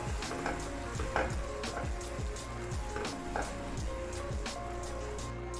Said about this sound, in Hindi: 2-3 मिनट के लिए इसको मज़ीद आलूओं को मसाले के साथ फ्राई करती हूँ